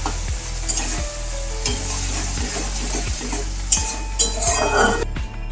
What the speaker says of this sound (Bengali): এই চিংড়ি মাছটা ভাজার সময় খুব একটা বেশি তেল দেওয়ার দরকার নেই